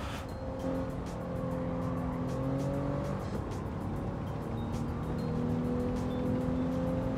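A Genesis all-wheel-drive race car lapping Brands Hatch in Gran Turismo 7, its engine droning steadily with rising and shifting revs, tires squealing at times, loud and continuous throughout.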